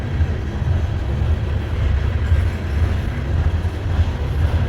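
A Norfolk Southern freight train, number 732, rolls past slowly and close by, producing a heavy continuous low rumble with faint rattling on top.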